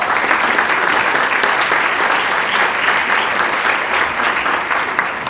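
Loud, dense audience applause at a rock night concert as a guitarist is introduced, continuous crowd clapping that holds steady and tapers slightly at the end.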